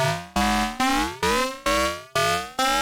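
Digitone 2 synth voice with ring-modulated sawtooth and square oscillators, only the ring-mod output audible, sweeping in repeated descending metallic chirps about every half second, bright and clangorous, steady and alone.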